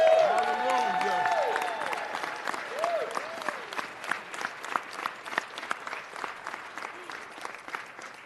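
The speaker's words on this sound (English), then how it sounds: "Give them a round of applause." Applause for stand-up comics at a city council meeting: a crowd claps loudly at first, then the clapping thins out into scattered individual claps that fade toward the end, with brief talk early on.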